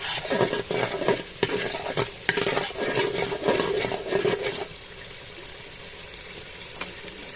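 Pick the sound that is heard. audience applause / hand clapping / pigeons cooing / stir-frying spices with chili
stir-frying spices with chili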